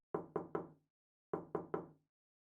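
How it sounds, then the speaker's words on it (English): Three soft, deliberate knocks on a door, evenly spaced, followed by a pause and then another set of three, close and alone in a quiet room at night. "Then came 3 knocks."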